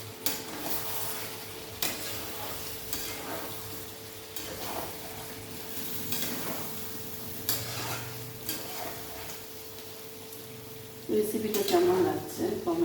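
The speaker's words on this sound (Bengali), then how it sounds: "আরেকবার একটু নাড়িয়ে দিচ্ছি।" Chicken and potato curry being stirred in a pot, with soft repeated scraping and clinks of a spoon against the metal over a gentle simmering sizzle, ending in a louder clatter.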